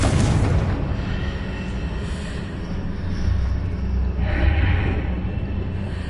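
A Confringo spell explosion in a Hogwarts video game: a heavy booming blast up front, followed by rolling low rumble and a second swelling crackle of debris a few seconds later.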